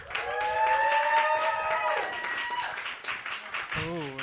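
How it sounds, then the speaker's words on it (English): Audience applause for a comedian at a roast battle comedy show, a steady crowd clapping through most of the stretch, with a loud voice ringing out over it and speech near the end. "I think more people clap for Irina, but the people who clap for Devin clap louder."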